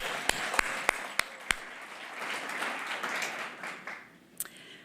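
An audience at an energy summit applauds, a handful of sharp individual claps at the start giving way to a soft, fairly distant spread of clapping that fades, with one last clap near the end.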